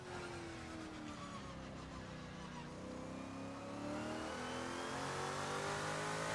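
Open-wheel 1966 Can-Am race car in Assetto Corsa at a Las Vegas circuit, its loud engine revving steadily with rising and falling pitch sweeps through gear changes, continuous and close throughout.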